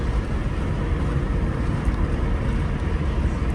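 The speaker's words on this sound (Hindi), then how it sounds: "और बहुत तेज हवा चल रही है" Strong wind roars in a continuous loud rush across the microphone outdoors, a dense unbroken buffeting with no pauses.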